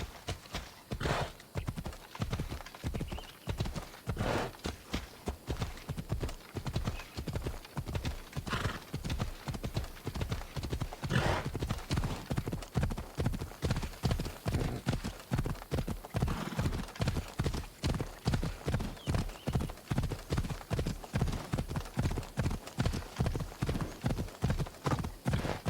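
Rapid, regular hoofbeats of a galloping horse in Assassin's Creed Odyssey pound steadily throughout, with an occasional whinny, like game sound effects.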